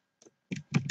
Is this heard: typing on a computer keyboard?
yes